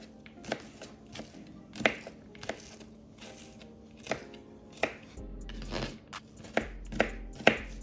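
An onion is coarsely chopped with a knife on a board for baked spaghetti, a run of close, crisp chops at an uneven pace, fairly quiet, with no one talking.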